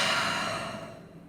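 A deep yoga exhale, one long breathy rush of air that starts strong and slowly fades, close and alone with no talking.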